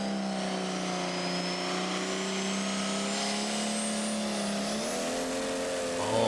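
Valtra tractor in a tractor pull, its engine building boost in a steady, loud rising drone with a climbing turbo whine, continuous and close for the whole stretch, swelling a little at the very end.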